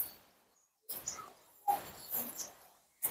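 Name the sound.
pigeons on a rooftop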